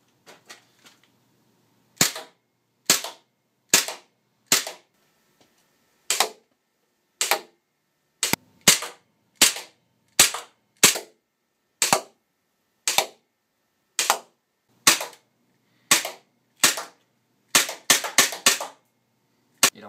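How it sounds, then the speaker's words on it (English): A KWA HK45 gas blowback airsoft pistol fires at a target, roughly twenty sharp, close cracks in an uneven rhythm, spaced at first and then coming in quicker bursts near the end, with no talking. "so let's just shoot it down range and see how it works"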